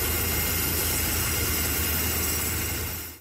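Gendarmerie helicopter engine on a mountain rescue for a stranded paraglider, a steady low rotor thrum and turbine whine held loud and unbroken before fading out at the end.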